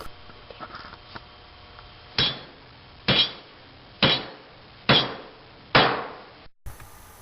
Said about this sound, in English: Three or 4 nails should secure each perch, front and back.